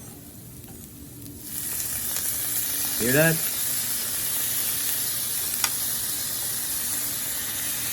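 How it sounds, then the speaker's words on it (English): Sauce hits a hot pan beside steak bites in a backyard kitchen in Guyana and sets off a constant close sizzle and hiss, with a brief louder burst as it pours in and a voice speaking over it. "Now I'm adding some of the sauce."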